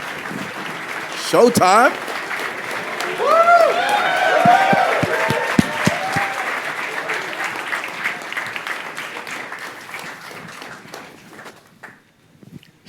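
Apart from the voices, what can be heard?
audience clapping and applauding at a music panel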